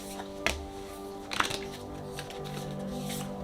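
Oracle cards being shuffled by hand, two crisp riffling bursts over a quiet room hum, close and fairly soft with no talking.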